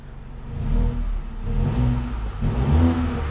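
A MINI Frozen Brass Edition car engine revs up repeatedly with throttle blips, a loud, close, rising and falling engine roar heard without talking.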